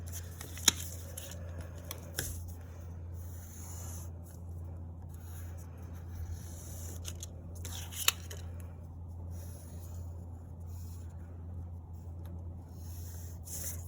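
Scissors snip out paper mouse shapes traced on colored paper, quiet scattered cuts and rustles over a low steady hum, with a couple of sharper snips standing out.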